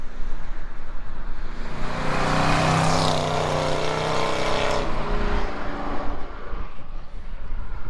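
A car roars past under hard acceleration, floored in second gear, its loud aftermarket exhaust swelling as it approaches and fading as it pulls away.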